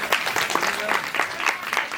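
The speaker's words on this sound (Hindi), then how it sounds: "अरे भाई ताली तो बजा दीजिए।" An audience at a stage play adapted from a Premchand story gives scattered, uneven clapping, with distinct individual claps in bursts rather than a full ovation.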